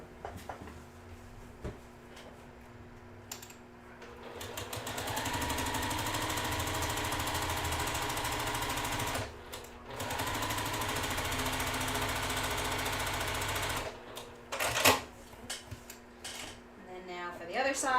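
A sewing machine stitching quarter-inch seams on either side of a line on a quilt block runs in a steady whirring burst of several seconds, stops briefly, then resumes. Handling noises come before and after, and a voice talks around it.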